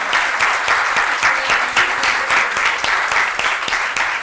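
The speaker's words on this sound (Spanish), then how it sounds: "yo creo que queremos dar ese aplauso para Belia." A room of people applauds at a book presentation, loud and close, with distinct individual claps standing out in an uneven rhythm over the broader clapping.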